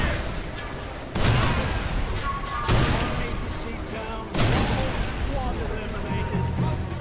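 Three heavy booms from a tank cannon in Mercenaries 2 land a little over a second apart, each followed by a rumbling explosion, all under continuous narration.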